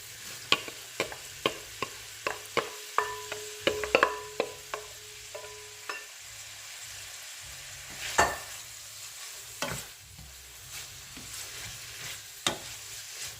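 Shredded cabbage fries in a hot pan for a Jamaican-style cabbage dish, with a steady sizzle punctuated by repeated sharp clacks and scrapes of a spoon stirring against the pan, close and fairly loud.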